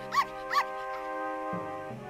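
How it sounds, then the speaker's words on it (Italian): A cartoon puppy in an Alice in Wonderland children's animation lets out two quick, high yips close up, followed by a soft low sound over a sustained musical background. "In quel momento, vide un cucciolo poco lontano."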